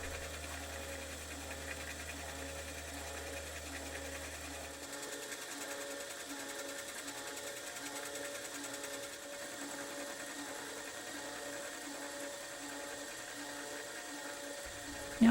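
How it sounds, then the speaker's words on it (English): A milling machine fly-cuts a mild steel cross drilling fixture, giving a steady whirring drone with a rhythmic cutting chatter that holds at an even level throughout, and a low hum fading out early. "So the first cut is easy because it just needs cleaning up with the fly cutter."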